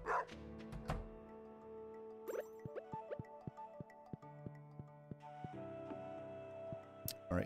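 A dog in the farming game Stardew Valley lets out a few short yips and barks at the start, then game music with plucked notes plays on.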